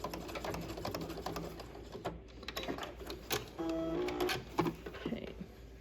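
A sewing machine stitches a welt pocket in short bursts, running slowly for the back stitch, with rapid mechanical needle ticking and whirring that stops and starts close by.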